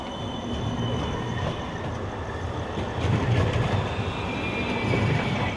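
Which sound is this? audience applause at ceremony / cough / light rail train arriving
light rail train arriving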